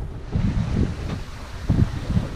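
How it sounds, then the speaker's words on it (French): Steady blustery northeast wind of about 16 knots at sea buffets the microphone in low rumbling gusts, with a hint of water and boat noise beneath, no voices. "Il y a 16 nœuds de vent, de nord-est"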